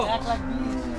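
A cow lows in a drawn-out moo at the Hozrotpur cattle market, close and fairly loud, with crowd noise beneath it.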